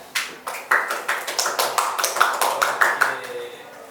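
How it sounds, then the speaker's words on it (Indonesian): Students in a classroom clap for a classmate, a string of distinct sharp claps in an uneven rhythm, close and moderately loud, from a small group rather than a large crowd. "Tepuk tangan buat teman kalian"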